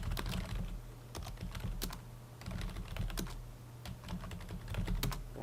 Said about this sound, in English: I can type